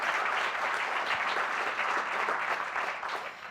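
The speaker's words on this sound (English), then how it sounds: "Yes, that deserves a round of applause." Dense, steady audience applause fills the room for about three and a half seconds, a continuous wash of many hands clapping that tapers slightly at the end, with no talking over it.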